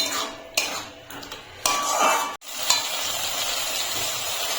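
Potatoes stirred into a spice masala in a pan: a spoon scrapes and clinks against the metal over a soft sizzle, with a few sharper knocks and pauses between strokes and nobody talking.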